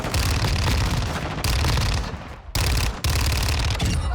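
Sustained Fennec 45 submachine gun fire in Call of Duty, loud and close, with rapid bursts broken by two brief pauses.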